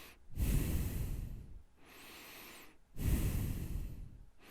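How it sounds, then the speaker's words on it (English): Two slow, deep breath cycles, each a long airy inhale followed by a softer exhale, close and calm with no talking. "you want to inhale till you feel a slight resistance and then exhale immediately"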